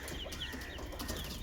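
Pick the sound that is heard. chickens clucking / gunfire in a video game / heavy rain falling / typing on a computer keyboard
chickens clucking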